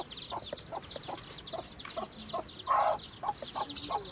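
Chickens cluck in a Thai village, a busy run of short, fairly faint clucks and chirpy calls overlapping at a quick, uneven pace, with one louder squawk partway through and no talk.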